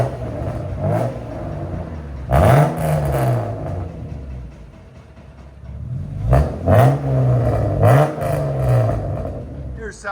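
Repeated throttle blips from a 1999 BMW M3 3.2L inline-six running without cats through a Sebring muffler, a loud close exhaust rising and dropping in pitch over a steady idle.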